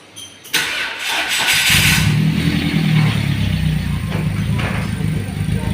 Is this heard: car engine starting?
yes